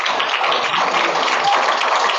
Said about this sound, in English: Clap for him, guys.